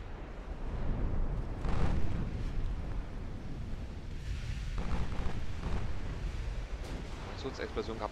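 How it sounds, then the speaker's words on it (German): Rumbling naval battle explosions and gunfire from the warship game Ultimate Admiral Dreadnoughts, a dense continuous roar with a heavier blast near the start and scattered sharper bangs, speech faintly mixed in. "Explosionen gab es eine ganze Menge."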